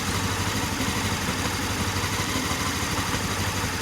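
A Honda CB500 motorcycle engine idles at about 1500 RPM during carburetor syncing, a steady, loud, even mechanical rumble with light clatter and no break.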